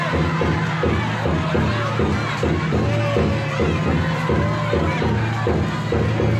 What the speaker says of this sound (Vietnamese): Vâng, thì quý khán giả cho một tràng pháo tay.